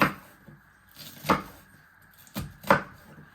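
Knife chopping through sausage-roll filling ingredients on a board, four separate firm thuds with irregular gaps between them, close by and moderately loud against an otherwise quiet kitchen.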